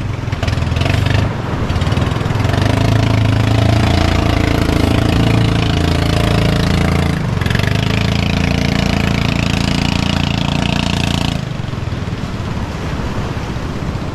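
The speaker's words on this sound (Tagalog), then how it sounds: "namamatay. Namamali ang makina." A boat engine idles roughly and sputters, running loud and steady for about eleven seconds before its sound drops away near the end.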